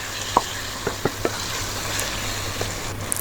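Onions and finely chopped tomatoes frying in a pan for Sri Lankan biryani are stirred, giving a soft steady sizzle with a few sharp spoon-against-pan clicks, no talking.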